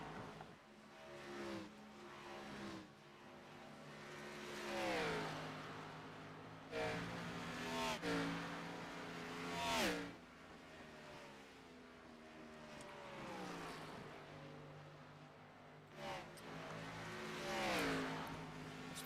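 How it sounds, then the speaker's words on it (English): NASCAR Xfinity Series race cars in a racing video game at Dover roar past repeatedly, engines rising and falling in pitch as each pack sweeps by, fairly distant and steady with no talk. "This is weird listening to these cars go hauling off to the corner."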